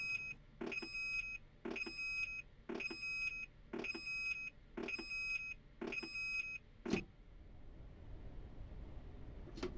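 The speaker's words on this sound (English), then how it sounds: "If you try to apply power with the handbrake applied, an alarm will sound." Handbrake alarm in a Class 442 electric train cab, sounded when power is applied with the handbrake on: a loud repeating electronic beep, about seven evenly spaced pulses, then a final click and quiet cab hiss.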